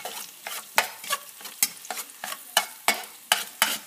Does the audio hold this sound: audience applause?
no